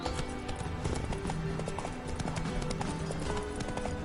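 A horse gallops in The Witcher 3, its hooves pounding in a fast, steady clip-clop rhythm over ambient game sound, moderately close with no speech.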